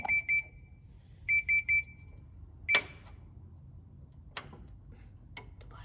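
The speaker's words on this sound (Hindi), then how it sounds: "ये रेड अलर्ट दे रहा है, बैटरी अलर्ट भी नहीं दे रहा" A household device's alarm sounds a red alert in short bursts of shrill electronic beeps, two quick beeps then three, followed by scattered clicks and taps in a quiet room.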